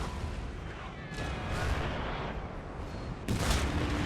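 Cannon and artillery fire in the video game Napoleon Total War: muffled booms and crackling battlefield volleys rumble at moderate distance, with a sharper, louder report near the end over a continuous background din.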